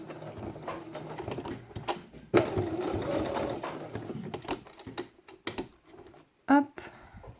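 A sewing machine stitches through felt to assemble a page of a handmade quiet book, running in short close bursts separated by pauses, with a person speaking in between.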